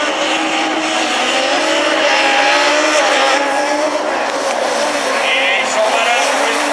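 Super 1600 rallycross race cars, including a red Renault Clio, roaring together at the Châteauroux round, a loud, continuous, dense engine drone at close range with no pauses.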